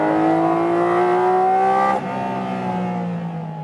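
A 2022 Porsche 718 Cayman GT4 RS flat-six screams loudly at high revs on a racetrack, holding a steady pitch before a sudden gearshift drop and continued roar.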